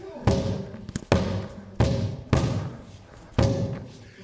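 A homemade sound cannon, used as a sound amplifier in a science demonstration on sound and music, fires five loud, close thumps at irregular intervals, each a sharp broadband burst that dies away quickly.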